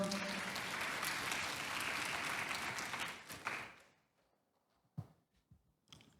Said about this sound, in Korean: 여러분 큰 박수로 맞이해 주시죠.